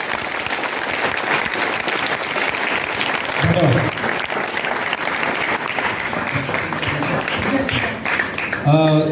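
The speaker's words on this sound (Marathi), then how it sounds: "मी याच्यासाठी स्पेशल टाळ्या वाजवा म्हणून जोरदार टाळ्या" A large audience at a children's literature convention gives sustained, vigorous applause, a dense wash of clapping that runs throughout, with brief voices and a short musical or spoken burst near the end.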